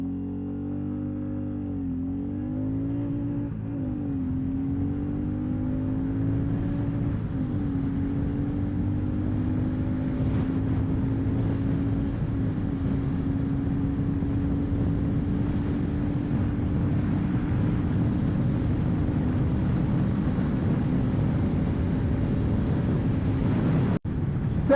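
A Royal Enfield Classic 350 motorcycle accelerates hard into a strong headwind, its single-cylinder engine note rising through several gear changes in the first seconds, then holding a steady climbing drone amid wind rush, with no talk.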